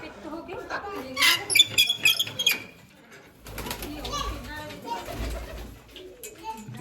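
Pigeons coo and flutter nearby on a rooftop while people talk over them, with some low rumbling handling noise partway through.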